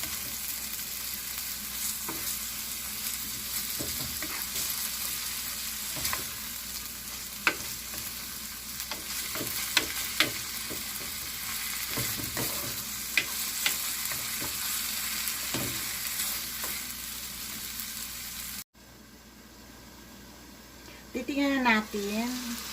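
Ground pork giniling frying in a pan for tortang giniling, stirred at length with repeated scraping clicks over a continuous sizzle, ending in a brief quieter stretch with a voice.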